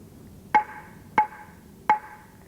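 Three sharp, evenly spaced taps of a stick on a hard kitchen object, each leaving a short, bright metallic ring in a quiet room.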